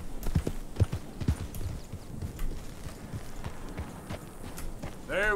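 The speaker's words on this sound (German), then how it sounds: "Wir reiten erstmal ran." Hoofbeats from horse riding in Red Dead Redemption 2 clop in a quick, uneven rhythm at close range, with a brief whinny-like sound at the end and a voice speaking faintly in the background.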